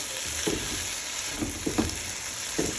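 Onion and spice masala sautéing in a pan, a low continuous sizzle broken by a few scraping stirs of a spoon, close and fairly quiet.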